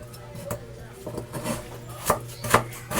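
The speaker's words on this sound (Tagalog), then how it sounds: "Iiwain ko na pati luya." Ginger sliced with a knife on a cutting board, prepared for grilled tilapia: steady close knife chops in an uneven rhythm, about eight sharp strikes over a few seconds, no talking.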